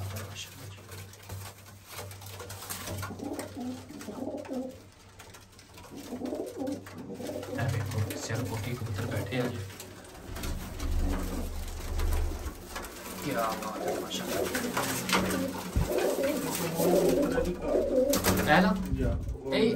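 Pigeons coo in an ongoing chorus while flying birds are watched, with voices talking intermittently and a steady low hum beneath.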